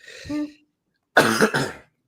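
A person close to the mic gives a short throaty voiced sound, then a pause, then two harsh, rapid coughs.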